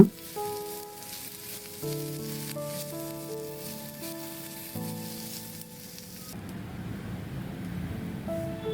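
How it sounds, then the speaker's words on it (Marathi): Chopped onion frying in a pan for Marathi sev bhaji, a soft steady sizzle under a sustained musical tone that drops away near the end, leaving the crackling fry more exposed and slightly louder. "कांदा परतून घ्यायचा आहे, तो पण छान लालसर रंगाचा होईपर्यंत भाजायचा आहे आपल्याला"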